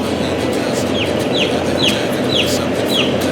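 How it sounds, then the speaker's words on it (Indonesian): A flock of six-day-old chicks with respiratory trouble peep in steady, dense chatter, with repeated high chirps standing out above a constant clucking murmur, close and loud throughout. "di sini ada trouble dari suara ayam"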